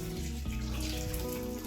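Cooking water being poured off boiled lentils (chana dal for holige/obbattu) into a sieve, a steady close splashing pour filling the short stretch without pause.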